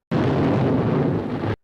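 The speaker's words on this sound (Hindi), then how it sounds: "लेकिन nuclear power plant shut down होने के बजाय एक जोरदार धमाका हुआ" A deep, rumbling blast effect stands in for the Chernobyl nuclear power plant explosion, a loud, dense roar that hits suddenly, holds for about a second and a half, then cuts off sharply.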